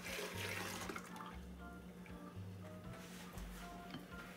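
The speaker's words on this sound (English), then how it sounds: "So we're going to pour that into the mixing bowl." Melted butter and milk pour into a mixing bowl in a home kitchen, a quiet steady liquid splash and trickle that runs for a few seconds, with faint background hum.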